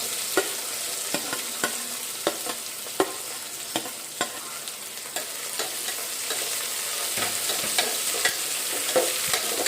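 Chopped onions frying in a pan and being stirred, with a continuous sizzle broken by regular spoon scrapes and clicks, close and moderately loud.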